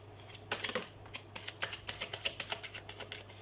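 Tarot cards being shuffled by hand, a quick run of soft riffling flicks and taps up close, quiet and without speech.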